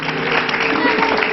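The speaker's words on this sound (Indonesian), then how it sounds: "sekarang tepuk tangan akan membangunkan Lolita" A studio audience at a televised hypnosis show claps together in a brief, even burst of applause that fills the room at steady loudness.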